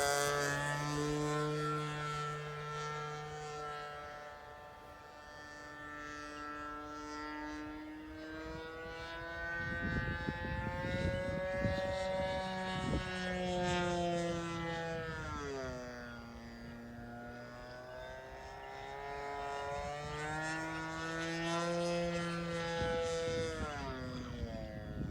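A model airplane drones overhead, its engine whine rising and falling in pitch as it passes back and forth, fairly faint and continuous.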